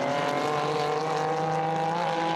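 A GT4 race car runs downhill at the Nürburgring during a GT4 European Series race, its engine a loud, steady, high-pitched howl holding close with a slight pitch shift as it passes.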